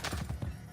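A horse in Assassin's Creed Brotherhood: a brief, faint run of hoof clip-clops with a short neigh, heard quietly in the game's soundscape.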